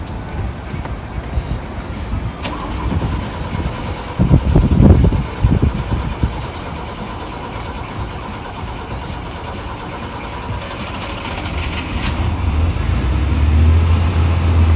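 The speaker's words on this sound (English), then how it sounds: "Let's go crank up the truck and see if that did it." A Chevy S-10 pickup with a chopped top and a rough-running fault cranks briefly and catches, followed by a loud burst of revving and then an uneven running drone, heard up close.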